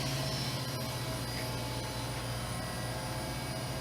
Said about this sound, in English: Spindle is now operating at 8500 RPM